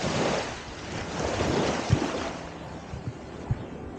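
Sea waves washing onto a beach at Devbag near Malvan at high tide, a steady broadband surf roar with wind buffeting the microphone and a few low thumps, no voices.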